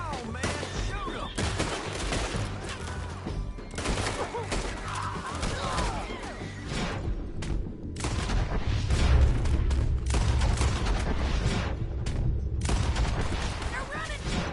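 Gunfire in a Red Dead Redemption 2 shootout: dense, loud volleys of rifle and pistol shots cracking in rapid irregular bursts, with shouting voices mixed in over the battle.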